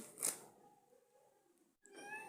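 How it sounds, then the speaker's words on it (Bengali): A single short cat meow near the start, then quiet room tone and a brief rustle afterward. "ও মাম্মাম তুই সর, এই আমার বিড়াল সব সময়।"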